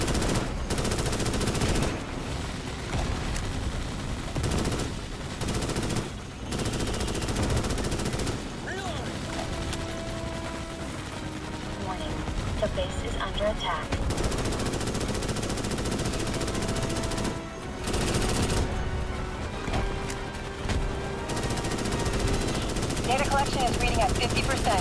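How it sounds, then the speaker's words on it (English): Rapid automatic gunfire from the Starship Troopers: Extermination video game, with sustained, loud bursts that continue almost without break. Brief gaps are filled by game effects, and someone talks over parts of it. "This thing's gonna cause me to run out of ammo shooting at it."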